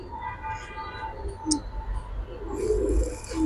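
Giribaz silver pigeons coo softly in low, rolling calls at moderate distance, with a brief sharper chirp and some indistinct background voices and murmur.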